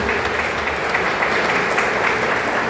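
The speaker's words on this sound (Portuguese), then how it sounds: "Você pode aplaudir aqui que está aqui." A church congregation applauds, a dense, steady roar of many hands clapping together, loud and even throughout with no voices standing out.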